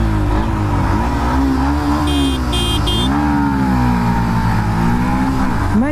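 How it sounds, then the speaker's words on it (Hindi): Yamaha FZ-X and FZ-S FI BS6 motorcycles accelerating hard in a road race, a loud, close engine roar climbing in pitch through the gears with brief dips at shifts, alone without talk. "मैं चला रहा हूँ और शुभम चला रहे हैं FZS"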